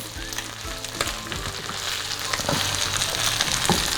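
Prawns sizzle and fry in a hot pan while being flipped and stirred, a loud continuous crackling hiss with scraping clatters over a few seconds.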